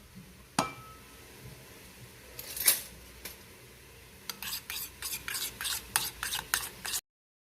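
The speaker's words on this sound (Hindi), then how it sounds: "अब हम इसके साथ सारे इंग्रेडिएंट को मिक्स कर लेंगे" Mutton being mixed with cumin, black pepper and turmeric, a few sharp utensil knocks followed by a run of rhythmic wet stirring strokes, close and moderately quiet, no talking.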